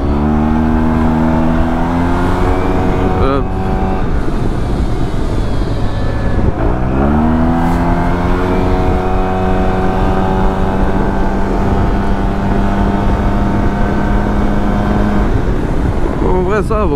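A 2022 Yamaha TMAX scooter ridden through traffic, its engine loud and close as it climbs and falls through rising revs, with someone talking over the ride.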